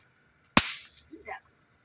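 A small firecracker bursting with a single sharp crack, close and loud, followed by a short fizzing tail and a brief voice.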